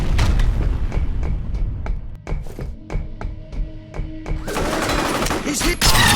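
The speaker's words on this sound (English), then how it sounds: "Fine, I guess use the shotgun for this." Shotgun blasts in the video game F.E.A.R., a run of sharp booming shots at irregular spacing, then a dense burst of gunfire near the end, with game sounds underneath.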